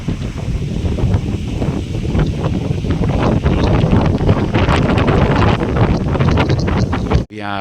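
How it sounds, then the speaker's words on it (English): Strong wind roars and buffets the microphone continuously at a mountain point near Picton, a loud rushing blast with gusts rising and falling. "It's a very windy Snout point."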